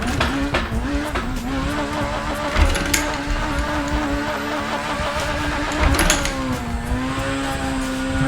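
Supercar engine in the racing game Assetto Corsa, revving high and steady while drifting, with tire squeal and sharp pitch swings on throttle lifts, loud and continuous throughout.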